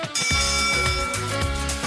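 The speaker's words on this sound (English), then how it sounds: "So when you hear that bell, that signifies the beginning and the end of each round." A bell rings out to mark the start and end of each exercise round in an online fitness class, its steady, sustained metallic tone lasting for the whole moment over a bright, full sound with no talking.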